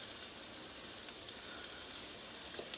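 A pot of chicken and dumplings simmers on the stove, a soft, even bubbling hiss that holds steady throughout, faint and close with no voices.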